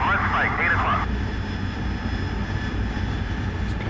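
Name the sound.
jet aircraft engine in DCS World flight game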